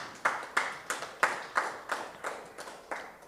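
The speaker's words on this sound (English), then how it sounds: "Give him a round of applause." Sparse audience applause at a roundtable event, about nine distinct sharp claps in an even, slow rhythm, fairly close and alone without talk.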